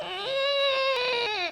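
A voice imitating funny grunts made by a man on a reality competition show, a single drawn-out whiny, strained vocal sound, close and fairly loud, alone.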